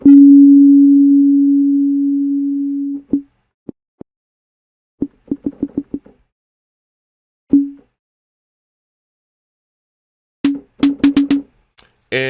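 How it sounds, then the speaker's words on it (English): A synthesized sine wave tone, used for snare drum synthesis, holds steady and loud for about three seconds, then returns as scattered short blips and rapid stuttering bursts, some with clicky broadband edges. "it's nothing but a short sine wave being played"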